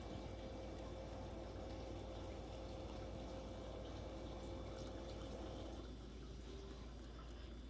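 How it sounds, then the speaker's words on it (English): Hot water pours steadily over cranberry hibiscus and mint tea leaves in a small steeping cup, a continuous close splashing rush that eases slightly near the end, with no voices. "pour your hot water over your tea leaves."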